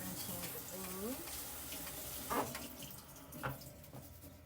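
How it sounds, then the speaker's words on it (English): Tap water runs steadily while beans are rinsed in a home kitchen for a sausage and kale soup. The flow is a continuous hiss with a couple of brief splashes, and a voice is heard briefly near the start. "Finish rinsing the beans."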